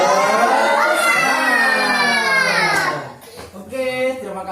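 A group of women at a child-protection training session shout a loud, drawn-out spirit cheer in unison, voices rising together before breaking off into scattered lower calls.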